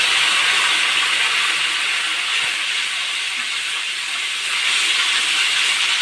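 Green chilli, ginger and cumin paste hits hot oil already tempered with cumin and chillies for a paneer curry, giving a loud, close, steady hissing sizzle that barely fades throughout.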